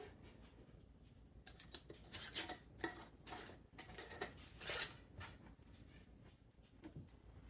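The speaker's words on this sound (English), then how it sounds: "Put your lid on." Lid fitted onto a glass gift jar of layered brownie mix, a series of soft clinks, scrapes and rubbing taps over several seconds, close and fairly quiet with no talking.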